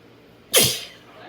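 A dog gives one sharp, close sneeze, a sudden burst that trails off quickly within a quiet moment.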